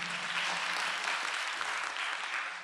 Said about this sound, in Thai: ถ้าหากไม่มีแล้วขอเสียงปรบมือให้กับทั้ง3ท่านอีกครั้งค่ะ